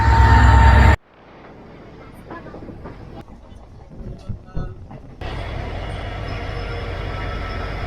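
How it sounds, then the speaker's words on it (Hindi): A train pulls into the platform at NJP station, its steady rumble and rolling noise building after a brief loud burst, with a voice speaking over the station sounds. "तो ये आ गई है मेरी ट्रेन।"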